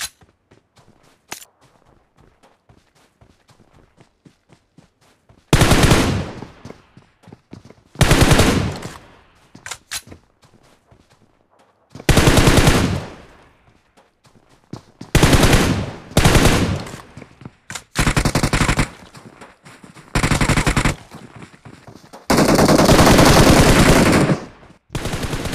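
Gunfire in a BGMI (Battlegrounds Mobile India) fight, with loud, close bursts of rapid automatic shots repeating in long and short volleys, separated by brief quieter gaps with faint distant shots.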